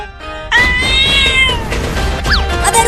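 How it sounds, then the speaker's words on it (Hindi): A cat in a home lets out one long, loud, close meow followed by a shorter rising cry, with no talking over it. "अबे रुक जा बिल्ली, कितना भगाएगी मुझे?"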